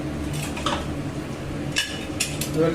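A metal pot lid clinks and clatters a few times during khichuri cooking, with light scattered kitchen clanks at moderate distance in a quiet room.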